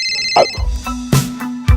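A phone ringtone chimes briefly at the start, then gives way to a few loud knocks and bumps nearby.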